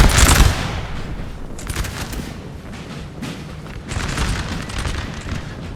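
Musket volleys fired by massed troops in Napoleon Total War at the Battle of the Mincio River, a loud opening boom followed by rolling, crackling waves of distant and nearer gunfire.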